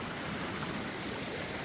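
A stream of rainwater rushes after heavy rain, a steady broadband wash of flowing water, close and continuous, with no voices.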